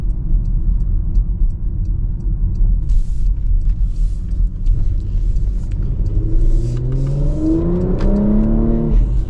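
A 2026 Porsche Macan S accelerates at part throttle, its loud, close engine rumble climbing steadily in pitch through a gear, heard from inside the cabin with no talk.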